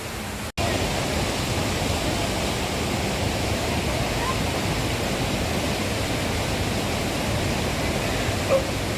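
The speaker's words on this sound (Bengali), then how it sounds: "এখানে রয়েছে কুইখোলা ওয়াটারফলস।" The Kui Khola waterfall beside a mountain road on the Silk Route in Sikkim, water cascading down the hillside with a steady, loud, continuous rushing roar that holds without a break.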